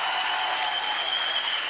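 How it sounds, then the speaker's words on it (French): A studio audience at a French-language TV show claps in steady, dense applause that fills the whole moment with no voices on top. "Ouais, applaudissez,"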